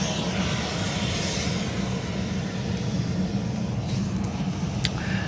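A Virgin airliner passes outside a Qantas 787-9 cabin, a steady broadband engine roar that holds evenly for several seconds with no talk over it.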